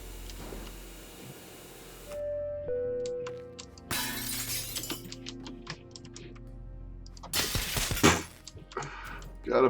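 Objects smashed apart in the physics-destruction video game Teardown, with two loud bursts of shattering and crunching debris separated by a sustained tonal hum, scattered clicks and ticks between them, and no voices.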